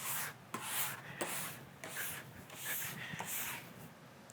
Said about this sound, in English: Apply even pressure, brushing from tip to tail to get a nice smooth surface and remove the rest of the wax